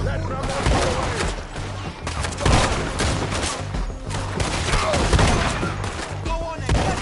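Dense, continuous gunfire and booming artillery blasts from a Red Dead Redemption 2 battle, loud and sustained with overlapping volleys and shouting voices mixed throughout.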